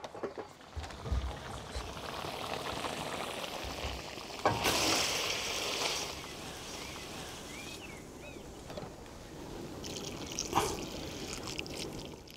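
Water poured into a large wok holding squid cooked with garlic and wine plus potatoes, a steady close trickling and splashing pour with sizzling, rising in bursts, with no talk.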